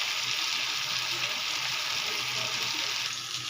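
Small mourola fish frying in oil in a pan, a soft continuous sizzle, steady and fairly quiet, with no voices over it.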